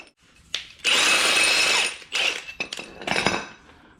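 A metal C-clamp is picked up and set up in a workshop: short metallic clanks and scrapes, a sustained rattling handling noise, then several quick knocks and clicks, close and fairly quiet with no talk.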